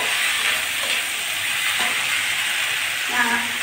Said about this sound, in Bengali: যেহেতু আমি মাছ ভাজি করছি।